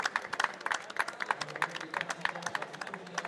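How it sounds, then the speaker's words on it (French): Scattered, uneven clapping from a small group seated around a table at an artisans' awards ceremony, fairly quiet and irregular, with faint murmuring voices underneath. "On peut les applaudir très très fort"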